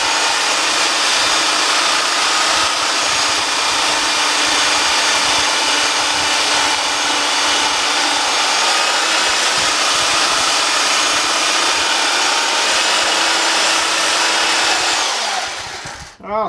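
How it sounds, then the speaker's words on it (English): Power sander running continuously on wood, a loud, steady droning whir held at full level throughout before cutting off at the end, close and with no talk. "I'll sand a little bit more."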